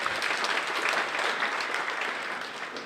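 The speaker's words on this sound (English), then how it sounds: "A round of applause for Aaron's tip there" Audience applause at a BrightonSEO 2014 conference session, a dense, even wash of many hands clapping that holds steady and fades slightly at the end, with no clear speech.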